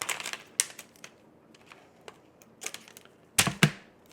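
Scissors or a blade trims excess Infusible Ink carrier sheet, giving light snips and crinkling paper rustles, scattered and close, ending with two louder cuts near the end.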